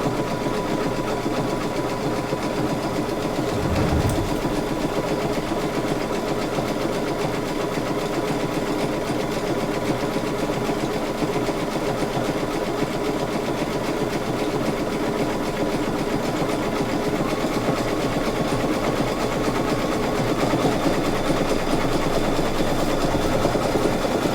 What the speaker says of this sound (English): it does a satin stitch and it does a little decorative stitch on top